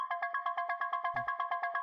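Synth pluck notes in a dark melodic techno lead style, repeating evenly about eight times per second with dotted-eighth echo and heavy reverb, steady and bright with a brief low thump near the middle.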